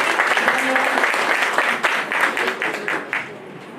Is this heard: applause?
yes